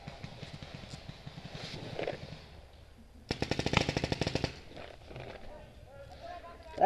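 A paintball marker fires a rapid string of sharp, evenly spaced shots in a burst, preceded and followed by scattered quieter pops outdoors, with voices talking around them.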